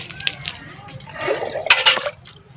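Water splashes and sloshes as it is poured out as a ritual offering in a village shraddh rite, several uneven pours that grow louder toward the end, with voices chanting and talking over it.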